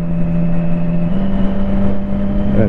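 Triumph Street Triple 675 motorcycle fitted with an aftermarket exhaust, its engine holding a steady loud idle that swells slightly in pitch partway through, close by and without talk.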